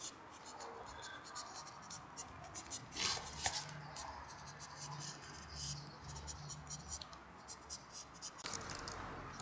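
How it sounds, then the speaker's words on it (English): The small blade of a Swiss Army knife cuts along the sides of the pith in a piece of fresh wood outdoors. Soft, irregular scratching strokes sit close over quiet rustling background noise. "using the small blade of the Swiss Army knife, I make a cut along the sides of this pith"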